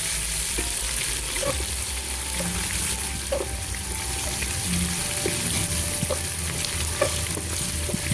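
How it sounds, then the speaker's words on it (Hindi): Loud, constant sizzling of ginger garlic paste frying in a hot pan with occasional scraping stirs, no voices. "इसको हम 1 मिनट के लिए फ्राई करेंगे।"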